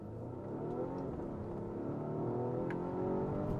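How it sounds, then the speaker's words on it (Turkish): A 455-horsepower Volvo S90 T8 pulls away from a standstill, its engine note rising gradually with a low steady hum and rumble as it accelerates, heard from inside the car at moderate volume. "Şöyle bir sıfırdan kalkalım arkadaşlar."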